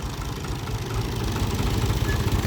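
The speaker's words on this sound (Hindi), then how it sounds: "तो अभी जो है ना भाई साहब जो है ना ट्रैक्टर ट्राली को आगे करने वाले हैं" Tractor engine idling on a farm field, a steady low rumbling chug with faint knocking, close and loud, with no voices.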